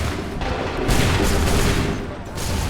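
Musket volleys crash out in the Assassin's Creed III video game, dense overlapping gunfire filling the scene in loud rolling bursts with battlefield din, one volley after another.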